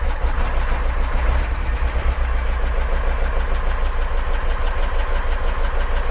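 A Porsche 914 engine with dual Weber carburetors runs steadily at a low, rumbling idle, with a brief rise in revs early on before settling back into an even, continuous drone.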